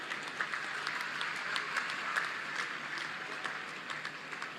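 An audience at an award ceremony for Olympic athletes in Lucknow gives a dense, even round of applause, at moderate volume and heard from a little distance, lasting throughout.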